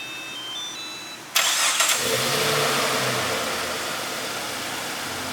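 A Jeep Cherokee XJ started by remote starter: a few faint electronic beeps, then the engine cranks and catches abruptly and settles into a steady, close idle.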